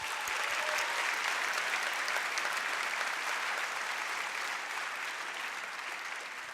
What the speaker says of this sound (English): So let's all give them a huge round of applause.